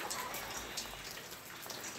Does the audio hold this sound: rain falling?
yes